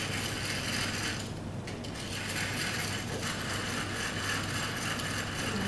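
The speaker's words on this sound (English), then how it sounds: "So just give them a good old whisk." Egg whites being whipped by hand with a balloon whisk in a bowl, making a steady, continuous rattling and clicking that runs unbroken from start to finish at moderate volume, with no voices.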